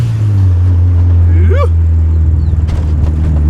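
A Honda Civic with a turbocharged B20 engine revs inside the car, giving a loud steady engine drone with a quick rising whine and a throttle change partway through, heard during a ride-along.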